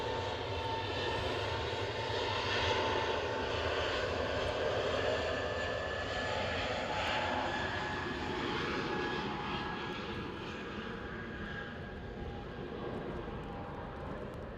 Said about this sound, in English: Oh, EasyJet coming out now.